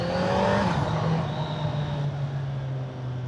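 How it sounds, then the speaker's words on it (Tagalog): Kawasaki Z900 SE motorcycle, a 2025 model, revving loudly nearby and downshifting, its engine tone dropping with a steady deep drone; the exhaust bang is not distinctly evident. "Bang! Yun yung downshift."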